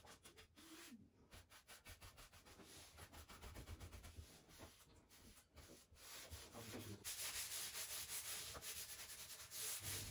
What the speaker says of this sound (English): I denibbed it with 220 grit sandpaper and then gave it a second coat.